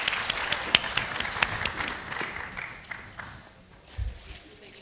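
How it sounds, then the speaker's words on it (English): Audience applause for Olympic athletes walking onto the stage at a women's health and fitness expo, a burst of claps that fades gradually over several seconds, with a brief low thump near the end. "go ahead and give a round of applause as they come up here to the stage"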